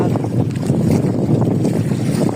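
Strong wind roars steadily and loudly on a fishing trip, buffeting the microphone with a constant rumbling whoosh, with faint water and boat noise beneath.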